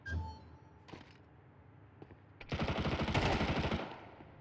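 An AK rifle fires in Counter-Strike, first a couple of isolated shots, then a fast, loud sustained burst of rapid automatic gunfire lasting over a second before it cuts off.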